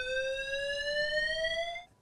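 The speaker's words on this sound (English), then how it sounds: "interview with Commissioner John Mueller, we had a fire alarm go off in the studio, so we had to end our interview early." A fire alarm sounds in a TV news studio, one continuous loud electronic tone, slowly rising in pitch, that cuts off abruptly near the end.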